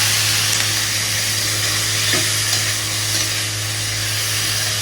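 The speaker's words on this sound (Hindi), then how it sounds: "इधर मैंने ये फ्राई करने के लिए रखा है" Oil frying steadily in a pan on the stove while making kadhai paneer, a continuous broad sizzle with a steady low hum beneath, no talking.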